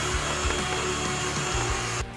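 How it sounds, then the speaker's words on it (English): A rotary power carving tool with a carbide burr stipples wood, giving a steady, close, high whine that cuts off at the end. "we're gonna take a bigger carbide burr and just stipple the whole thing here"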